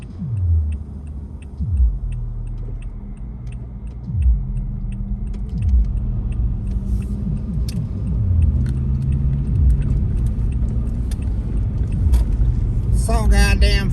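A white Chevy car rolls past, a low steady engine and road rumble under an ongoing mix of game-like clicks and ticks, with people talking over it throughout.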